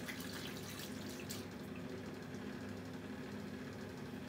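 A tap runs water steadily into a sink for rinsing after a shave, a constant close hiss with a faint low hum beneath and a few brief splashes early on.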